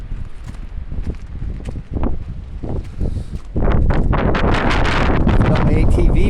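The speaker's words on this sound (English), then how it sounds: "Wow, is it ever windy?" Strong, cold wind buffets the microphone outdoors, rushing loudly and building into a continuous roar in the second half, with a few thumps and rustles mixed in.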